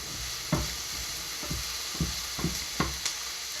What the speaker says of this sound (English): Fry up the onions.